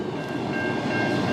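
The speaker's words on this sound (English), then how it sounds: "Vintage locomotive on the back!" A CN freight train with a vintage zebra-striped SD60F locomotive rolls past as a steady, moderately distant rumble of wheels and cars. No voices are heard.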